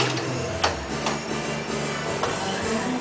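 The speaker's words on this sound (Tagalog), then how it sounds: "Etong machine na to, ito yung ginagamit namin sa tiyan, pampapayat." Belly slimming machine running in a condo room, giving a steady mechanical hum with faint rhythmic ticking throughout, moderately loud and close.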